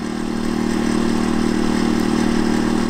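A CAT INV2000 inverter generator runs at a steady, loud drone about 3 feet away, with a constant engine hum and buzzing tone and no noticeable change in speed.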